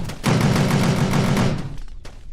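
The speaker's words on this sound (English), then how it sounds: "Got the 50 cal turrets right here." .50 cal turrets firing in the video game Kerbal Space Program, a rapid, loud, close burst of evenly spaced shots for about a second and a half, followed by a few fading single reports.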